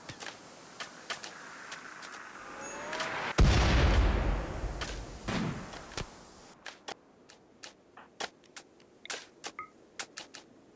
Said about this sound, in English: who has equipped a sniper rifle, has made it into range of the enemy camp, so he can now start firing